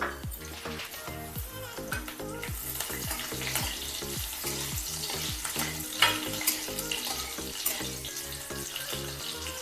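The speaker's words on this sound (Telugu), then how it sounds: "కొంచెం వేగాలి వెల్లుల్లిపాయ లైట్గా" Crushed ginger and garlic cloves fry in a pan for drumstick-leaf dal fry, giving a loud, steady sizzle with stirring and a regular rhythmic pulse running through it, and no voices.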